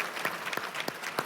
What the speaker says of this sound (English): I want to ask you all to give this panel one more round of applause